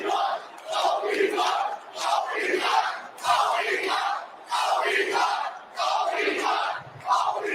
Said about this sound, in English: You're going to hear cheering